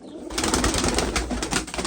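Pigeons cooing inside a coop in Derik, Mardin, soft repeated low coos layered with rustling and a bit of wing movement, close by and brief.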